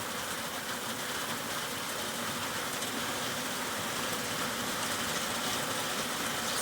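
Heavy rain pours steadily during a summer hailstorm, a dense, even roar of downpour filling the whole stretch without letting up, no voices over it.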